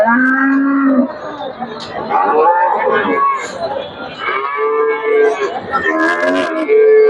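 A Friesian dairy cow with her calf lows loudly at the Dupchanchia cattle market. Several long, close moos rise over a steady hubbub of crowd chatter and someone talking.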